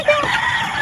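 Native chickens clucking and calling up close in a brief burst, with rooster-like fowl sounds and no talk.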